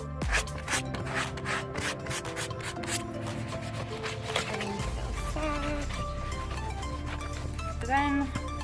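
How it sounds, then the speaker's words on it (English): Very fine grit sandpaper rubs lightly over dried, raised fibers on cat-scratched leather in a steady, close scratching hiss, with tonal music underneath. "use some very fine grit sandpaper, just a little bit to sand"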